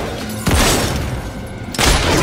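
Gunfire in the video game Batman: Arkham Origins comes as two loud, abrupt blasts that each fill the space with a sustained, roaring crash, separated by a brief quieter gap.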